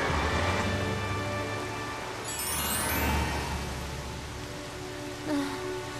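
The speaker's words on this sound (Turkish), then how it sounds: "O kadar yoğun yağıyor ki önümü göremiyorum." Steady heavy rain pours as a dense hiss, with tonal hums and a rising whine from a nearby engine or device in the background, from a Tayo children's cartoon.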